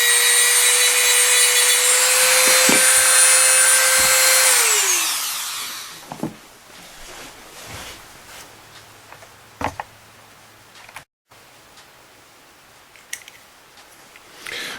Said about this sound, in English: we have pretty much taken the wire brush all over this one here